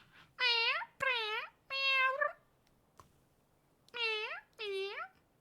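A house cat meows five times in short, rising-and-falling cries, close and clear, with brief pauses between them and a soft tap in the quiet gap.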